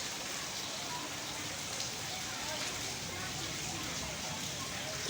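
Monsoon-like heavy rain falls in a steady, dense hiss that stays even throughout and is fairly faint, with voices faintly present underneath.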